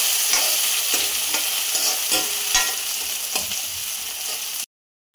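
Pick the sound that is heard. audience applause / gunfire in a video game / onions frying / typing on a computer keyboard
onions frying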